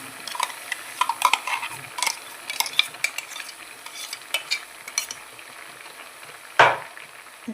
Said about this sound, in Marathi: टोमॅटोची पेस्ट करून घेतलेली आहे ती त्यामध्ये टाकूया.